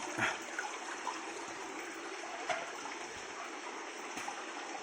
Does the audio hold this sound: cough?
no